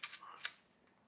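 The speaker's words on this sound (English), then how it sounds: "So you got metal shutter." Metal shutter of a mid-range Japanese-made Alpa camera firing: a few sharp, brief clicks spaced apart, close and fairly quiet, with one final crisp snap at the end.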